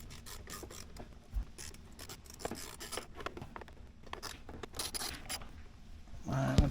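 An 8mm wrench works the steering wheel bolts on a 1997-2006 Jeep Wrangler TJ, giving close, quiet metallic clicks and scraping ratchet-like rasps in irregular bursts, with a clunk near the end.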